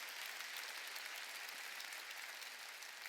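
Sustained applause from a church congregation at a Sunday worship service, a dense, even wash of clapping filling the whole stretch without letup.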